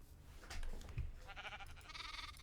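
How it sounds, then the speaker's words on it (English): A sheep bleats twice, fairly close, in the Minecraft GregTech modpack, the calls rising over a soft background hum. "Alright, we have sheep farms"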